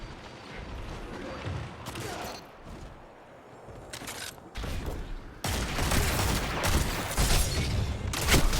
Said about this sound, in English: Don't know why both rounds of my shotgun didn't kill them together